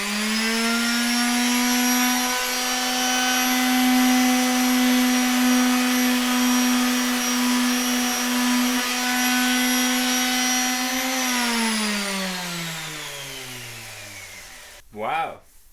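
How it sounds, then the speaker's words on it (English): An old power sander, sitting unused for years, runs with a steady high whine while sanding a Subaru WRX's body panel with 180-grit sandpaper, then spins down with falling pitch and stops with a brief bump. "Just found a sander that's probably been sitting over here for 10-20 years."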